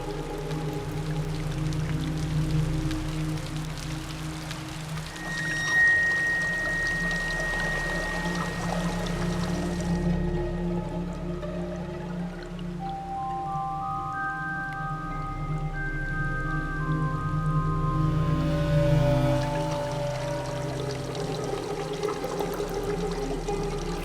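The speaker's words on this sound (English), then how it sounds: "the mountain ranges of northern Iran give rise to numerous streams and rivers" Mountain streams in the forested ranges of northern Iran flow in a steady, continuous rush of water, heard throughout alongside soft tonal music.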